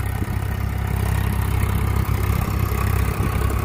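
A Swaraj 843 XM tractor's diesel engine runs steadily during a mileage test, a continuous low throbbing rumble with light clatter, close and alone with no talk.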